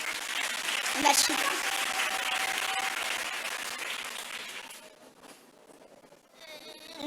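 A church congregation applauds steadily under a preacher's voice, the clapping dense and sustained before thinning out toward the end, with a brief spoken word heard.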